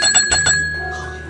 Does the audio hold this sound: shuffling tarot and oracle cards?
no